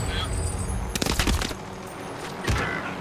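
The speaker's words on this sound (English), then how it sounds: "I see gunfire coming from that roof." Gunfire in a video game crackles in a quick cluster of sharp shots, followed by one more burst a moment later, fairly close and loud.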